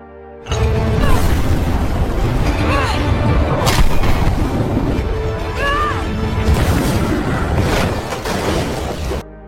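Nitro tanks explode one after another in a film battle against rebels, with loud booms, crashes and debris over a dense roar that lasts nearly the whole stretch.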